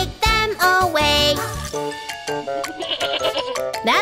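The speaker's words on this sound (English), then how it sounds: "Did a goat take them away?" A cartoon goat bleating in a children's safety song, loud wavering bleats set among bright tuneful music with jingling tones and sung voices.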